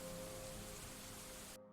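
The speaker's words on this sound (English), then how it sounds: "rain effects" Rain from the SoundSense mod in Dwarf Fortress plays as a dense, even hiss of falling rain that runs steadily, then cuts off abruptly just before the end.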